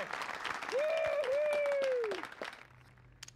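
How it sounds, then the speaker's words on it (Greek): Applause from an audience at a poker tournament, a fairly dense burst of clapping lasting a few seconds, overlaid by a gliding electronic tone, then thinning out into scattered claps. "Ένα χειροκρότημα κυρίες και κύριοι για τη σταυτοπούδα του πόκερ."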